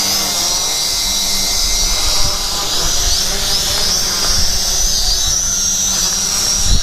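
A JY011W toy drone hovers high overhead with a steady, high-pitched whining buzz of small motors, continuous throughout with slight wavering in pitch, fairly loud.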